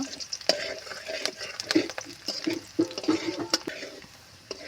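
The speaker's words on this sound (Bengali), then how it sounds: "তেল গরম হয়ে গেছে এবার আমি রসনা কুচিটা দিয়ে দেব রসনাটা এইভাবে নেড়ে চেড়ে আমি খুব সুন্দর মতো ব্রাউন কালার করে নেব" Chopped garlic frying in hot oil in a pan while a spatula stirs it, with crackling sizzle and repeated scraping strokes at an uneven rhythm, close and moderately loud.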